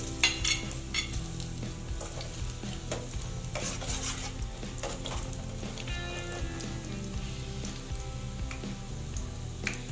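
Ginger sizzling and frying in hot oil in a pan for chicken adobo, with continuous crackling and stirring scrapes, fairly quiet and steady.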